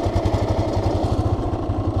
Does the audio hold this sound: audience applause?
no